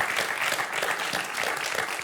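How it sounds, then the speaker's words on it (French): Steady applause from a game show studio audience, continuous and fairly loud with dense clapping throughout and no break. "Je crois qu'on peut applaudir Julien"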